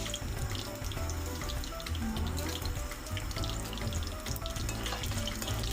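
Bay leaf and fennel seeds fry in hot oil in a pan while cooking a country chicken gravy, a constant dense sizzle with crackling pops, close and steady.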